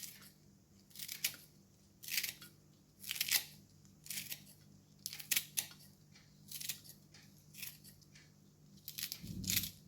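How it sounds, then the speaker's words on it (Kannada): Malabar spinach (basale) leaves, cleaned, being finely cut with scissors: a steady run of crisp snipping bursts about one per second, close and alone, with a faint low hum beneath. "ಈ ಬಸಳೆ ಎಲೆಯನ್ನು ಎಲ್ಲ ಕ್ಲೀನ್ ಮಾಡಿ ಆದಮೇಲೆ ಹೀಗೆ ಸಣ್ಣಕ್ಕೆ ಕಟ್ ಮಾಡಿಕೊಳ್ಬೇಕು"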